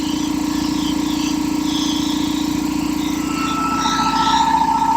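A refurbished air compressor runs loudly and steadily with a constant mechanical hum and a fast rattling pulse, with no voices over it.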